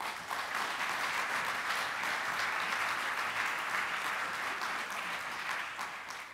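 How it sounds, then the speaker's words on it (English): Conference audience at a climate change meeting gives steady, dense applause, many hands clapping continuously at moderate distance before tapering slightly at the end. "So I think he deserves a round of applause for that."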